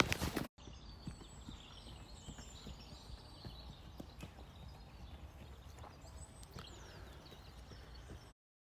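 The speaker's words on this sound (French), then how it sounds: "faire de l'équitation avec son petit cheval d'amour qui est très beau" Quiet, rhythmic hoof clops from a small horse being ridden at a walk, fairly distant and steady, with faint outdoor ambience and occasional bird chirps.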